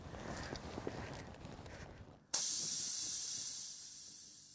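Air hissing out of a punctured run-flat tire after a driven-in nail is pulled, a sudden loud broadband hiss that starts abruptly mid-clip and then slowly fades while holding steady.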